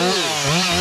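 A chainsaw cuts wood during firewood logging, a loud, close, continuous buzzing whine that dips in pitch as the chain bites.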